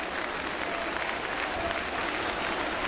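A ballpark crowd at a Phillies–Blue Jays baseball game applauds steadily for the pitcher, a dense, even wash of clapping and cheering with no break.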